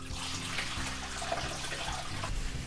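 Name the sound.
water poured into a front load washing machine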